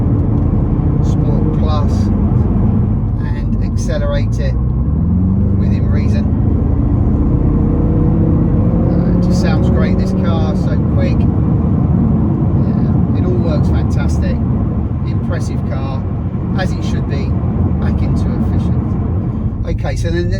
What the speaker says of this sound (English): Sport Plus, and accelerate it within reason.